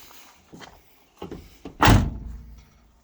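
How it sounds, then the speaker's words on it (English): Door of a Chevrolet squarebody truck with a 7.3 Powerstroke swap and flat bed, swung shut with one solid, close thunk after a few light clicks and rattles of the latch, no voices. "See how easy that door closes?"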